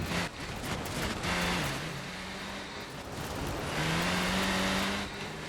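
An S1 class race car engine in the racing video game K74 Rivals on a cliffside track, a steady droning hum that rises and falls in pitch as it revs, with tire noise under it.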